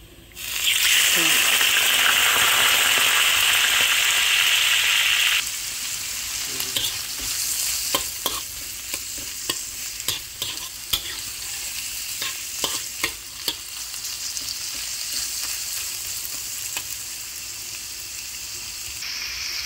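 Shrimp frying in a pan after garlic has been browned and set aside: a loud, bright sizzle bursts up as the shrimp hit the hot oil, then settles into steady crackling with scattered pops and stirring clatter.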